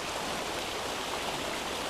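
River water swollen and murky after rain rushes past a bank in a steady, dense broadband wash, close and even with no voices.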